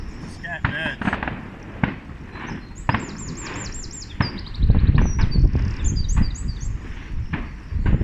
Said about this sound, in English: Letting fireworks off, can you believe it?